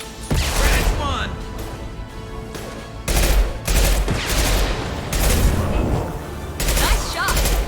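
Rifle fire in Mass Effect 2, loud repeated bursts of rapid automatic shots separated by short pauses, close and punchy, with game effects and faint voices in between.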